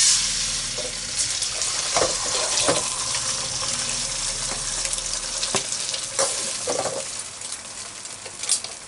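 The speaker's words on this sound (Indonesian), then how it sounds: "Oke, kita masukkan telur." Egg sizzles and is stirred in a hot wok for seafood fried rice, a steady hiss broken by repeated scraping strokes and clinks of the spatula, close and fairly loud.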